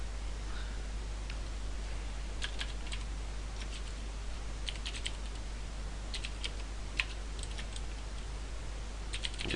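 Keystrokes on a computer keyboard while C# code is written: light, scattered clusters of clicky taps with short pauses between them, close but faint over a low steady hum, with no speech.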